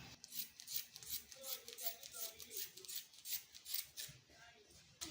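Scissors snip through fabric for a flared gown, a quiet, close, steady run of about a dozen rhythmic cutting strokes, each a soft rasping crunch, with a brief pause near the end.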